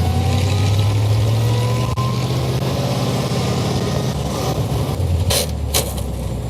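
An old fire truck engine with square-cut gears runs just after starting, a loud, steady, low rumbling idle that holds close and continuous, with a couple of brief rattles near the end.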